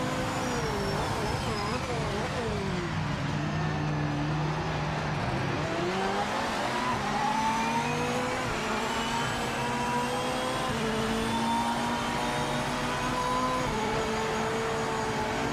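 Default Chevrolet Corvette race car engine in Project Motor Racing, a steady droning whine that rises and falls through gear changes, running continuously at moderate loudness with faint speech-like sound mixed in.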